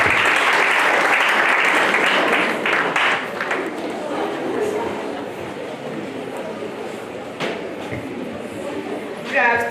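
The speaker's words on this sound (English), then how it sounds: "So let's receive her with a clap." Audience applause at a school event, welcoming a student to the stage for a spoken-word performance. Loud, dense clapping from a crowd that gradually thins and softens, with a few late claps near the end.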